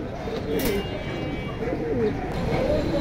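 Pigeons coo in low, rolling murmurs at a pigeon sale, close and continuous, with faint background chatter and rustling.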